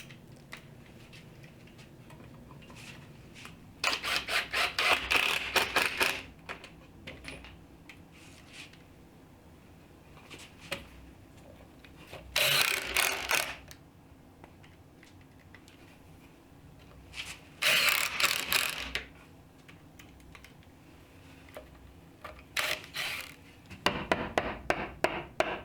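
Driver running 1.25-inch pocket hole screws down into a wooden entry bench seat, in four separate bursts of close, rasping whir and grind about a second or two long, with quiet handling noises between them and no talk.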